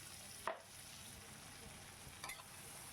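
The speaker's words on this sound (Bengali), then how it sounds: "ভালো করে একটু নাড়িয়ে চাড়িয়ে নিচ্ছি" Chopped medium-sized onions sizzling in oil in a pan for a prawn bhuna, stirred a couple of times with scrapes, steady faint frying hiss throughout.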